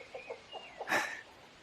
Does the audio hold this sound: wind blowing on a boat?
no